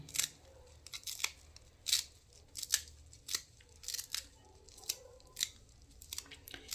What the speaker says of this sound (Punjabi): ਹਰਾ ਧਨੀਆ ਵੀ ਆਪਾਂ ਕੱਟ ਕੇ ਪਾ ਦਿੰਦੇ ਆ